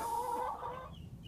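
Chickens lined up at the coop door in the morning cluck in a brief, close burst over a steady low background hum.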